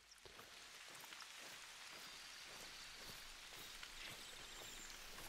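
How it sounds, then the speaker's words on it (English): Steady rain falls in theHunter Call of the Wild, a soft, dense hiss of drops on foliage and ground with scattered pattering hits, faint and continuous with no voices. "at least we have the rain coming in, which is going to help mask our movement"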